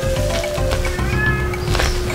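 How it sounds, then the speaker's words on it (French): The landlady's cat meows, a drawn-out, wavering cry that stands out loud and close over a low steady background hum, with no speech. "Je dis pas qu'il y a encore le chat de la proprio."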